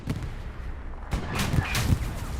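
Two heavy gunshots fired in quick succession strike a Panzer IV tank in the World War II game Hell Let Loose, loud and close, amid a background of distant gunfire.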